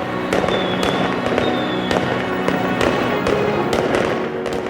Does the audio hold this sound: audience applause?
no